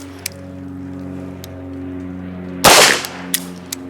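Slow, single Beretta M9A3 pistol shots at a range, fired double action, with one loud close crack and its ring-off standing out above a low steady hum, plus a few faint distant pops.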